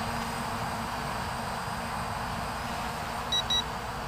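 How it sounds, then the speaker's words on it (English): Two short electronic low-battery warning beeps from an Eachine EX1 GPS quadcopter near the end, high-pitched and evenly spaced, over a steady hum of outdoor wind and motor noise. "And now it's beeping because of the battery."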